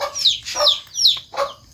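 Chickens in a Thai farmyard let out four quick, close clucks in a loose rhythm, each a short rising squawk with brief quiet gaps between.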